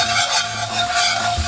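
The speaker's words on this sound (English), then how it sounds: "now I'm gonna add in the garlic" Garlic hits a hot pan for vegan jambalaya with a steady, close sizzle and frying hiss, accompanied by stirring, with no talking.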